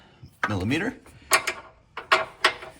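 Ratchet with a 13mm socket loosening bolts on a 2015-2017 Mustang GT Performance Pack, giving a run of rapid clicking followed by several short separate bursts of metallic ratcheting, close and moderately loud.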